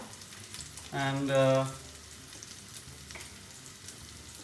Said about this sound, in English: You want to sear kind of evenly on all sides.